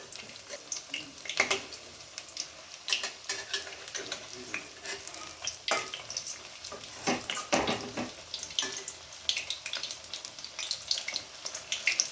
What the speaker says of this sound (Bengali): কত সুন্দর ভাজাও হচ্ছে